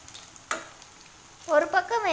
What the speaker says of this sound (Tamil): இந்த வடையை எண்ணெயில் போட்டு பொரித்து எடுத்துடலாம்